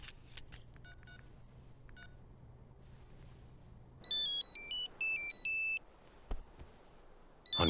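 A phone rings in a Hindi crime drama, electronic ringtone melody of stepped beeps sounding in loud bursts with short pauses between, over low room murmur, no talk.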